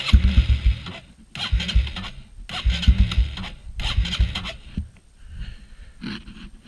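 A Honda CRF125F dirt bike with electric start and carburetor choke sputters to life in repeated loud bursts, revving unevenly and dropping off between attempts before settling toward a rough idle.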